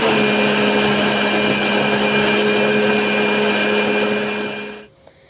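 Electric blender whirring through gluten-free, sugar-free brownie batter made with cocoa and cornstarch, a loud steady motor drone with a sustained hum that cuts off abruptly near the end.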